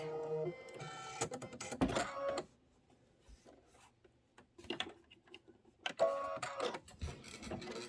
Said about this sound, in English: this is going to be 11 minutes of stitching, so just let it go